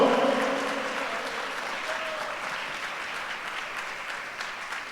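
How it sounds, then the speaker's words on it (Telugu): A church congregation at a Sunday service claps together in dense, sustained applause that starts loud, then slowly fades, while a brief voice is heard at the very start. "చప్పట్లు కొట్టి ఆనందించండి యేసు నామములో"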